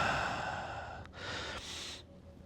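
Heavy breathing during a total-body ski fitness routine: a few deep, close exhalations, one long breathy push followed by a shorter one, with no talking.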